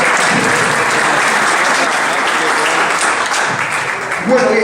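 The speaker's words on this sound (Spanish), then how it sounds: "Vamos a darle un aplauso a Miguel." Loud, sustained applause for Miguel at a business seminar, a thick continuous roar of many hands clapping close by, fading slightly toward the end as a voice begins to speak.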